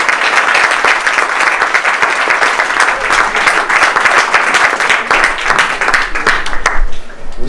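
A theatre audience at a science cabaret claps loudly and continuously, a dense, close wash of many hands that holds steady for several seconds before thinning out at the end.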